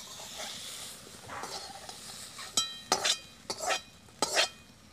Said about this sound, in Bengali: খুব বেশি ভাজার দরকার নেই, বেশি ভাজা হলে চিংড়ি মাছগুলো শক্ত হয়ে যায়, এইভাবেই ভেজে নিতে হবে